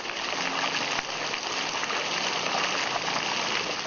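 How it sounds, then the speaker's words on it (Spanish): Drinking water gushes from a burst water main in Colonia Santa Marta, a loud, steady, unbroken rushing roar with no pauses. "El vital líquido fluye sin cesar por la ruptura de la cañería madre."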